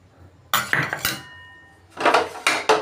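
Cornflour and flour spooned into a bowl for begun cutlet batter, with several bright metallic clinks and taps of a spoon against the bowl, close and distinct, separated by a quiet pause.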